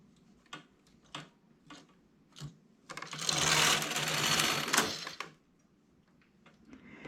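A hand-operated knitting machine clicks through a few needle taps, then its carriage slides across slowly for about two seconds with a loud rolling rasp before more isolated clicks, with no speech.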